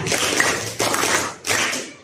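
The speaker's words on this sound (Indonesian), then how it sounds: "Coba tepuk 1 kali. Tepuk 2 kali. Tepuk Pancasila." A class of students does Tepuk Pancasila, a patterned group clap, in three loud, close bursts of many hands striking together, each burst dying away briefly before the next.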